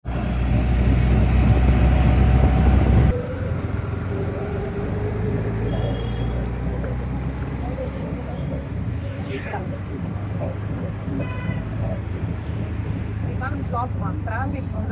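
Road traffic outside, with a loud rushing burst at first, then a steady engine and tyre rumble with wind buffeting and occasional higher whines from passing vehicles, continuous throughout.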